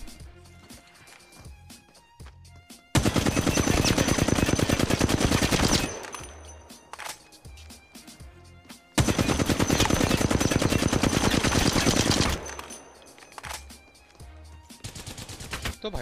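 R-301 rifle fire in the mobile game Apex Legends Mobile comes in two long, loud bursts of rapid automatic shots, each lasting about three seconds, with quieter game sounds between them.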